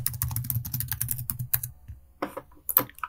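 Quick clattering keystrokes on a computer keyboard, close and dry, in a busy run of taps followed by a short pause and a few final clicks.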